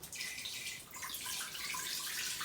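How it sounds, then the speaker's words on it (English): Water pours steadily into a stainless steel Instant Pot inner pot, a close, continuous splashing stream that shifts slightly in tone partway through. "what I'm going to do now is just put 2 cups of water in this"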